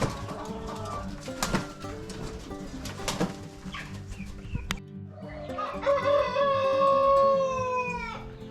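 Chickens cluck and squawk nearby, with scattered sharp knocks early on and a longer, louder run of calls toward the end.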